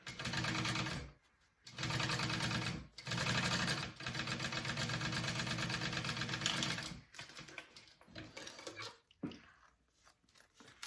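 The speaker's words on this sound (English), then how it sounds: "I'm gonna top stitch around this to make it lay flat" A sewing machine top-stitches along a zipper on a backpack, a fast steady whirring chatter in three bursts separated by short pauses, followed by quieter handling.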